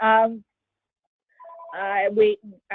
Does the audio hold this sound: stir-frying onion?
no